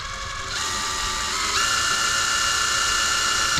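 A drill bores pilot holes in new equipment for a food trailer, a steady whirring mechanical hum that rises in pitch partway through and holds, close and continuous with no talking.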